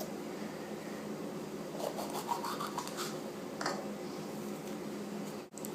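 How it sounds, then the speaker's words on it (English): A knife cuts and scrapes through bell peppers on a board, faint soft scratching and crunchy slicing strokes in short bursts, with a sharp knock near the end. "now we will be cutting our peppers, my peppers"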